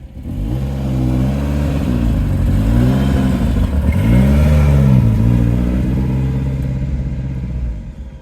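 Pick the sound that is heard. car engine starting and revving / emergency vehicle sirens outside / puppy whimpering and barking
car engine starting and revving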